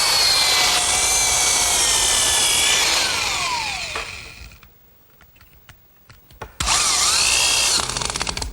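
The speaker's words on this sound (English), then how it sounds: "then I'll secure the rest of the band with some screws" A power drill drives screws to fasten an oak band on a rolling shop cabinet, loud whirring bursts running steadily for several seconds, a pause, then another loud burst of drilling, with no talk.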